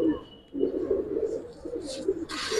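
Giribaz pigeons, silver bagha and green-necked birds kept by a seller, coo in soft, repeated low murmurs close by, with a brief brighter rustle near the end.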